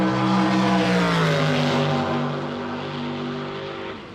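At Santa Pod Raceway, a drag racing car in the burnout area holds a loud, droning engine note. Its pitch glides downward and then settles before fading slightly over several seconds. No one speaks.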